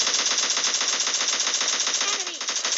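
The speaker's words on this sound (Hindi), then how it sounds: "मुझे पीछे से कुछ शूट्स आते हैं" Sustained automatic rifle fire in PUBG Mobile Lite, from M416 and AKM guns, rattles in a rapid, evenly spaced burst, loud and continuous with only a brief dip near the end.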